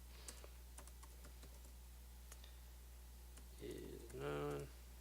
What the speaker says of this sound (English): okay, I'll type it out.